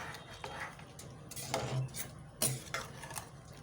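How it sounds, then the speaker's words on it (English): A spoon clinks and scrapes carefully inside a tight pot of catfish pepper soup, giving a few soft stirring strokes with small metallic taps, close and fairly quiet. "I'm going to give it a careful stir"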